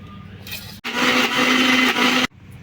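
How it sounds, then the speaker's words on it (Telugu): A mixer grinder blends boiled prawns with ground spices into a paste, one loud steady whirring burst of about a second and a half that cuts off abruptly, with brief quieter motor sound before and after. "ఇప్పుడు ఇవి కూడా మిక్సీ పట్టేసుకుందాం"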